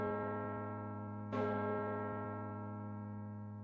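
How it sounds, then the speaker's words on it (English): A large church bell tolls once, its loud strike rising mid-clip and ringing out in a long, resonant hum that slowly fades, with no voices. "You feel the reverberation of the bells. They're tolling for you."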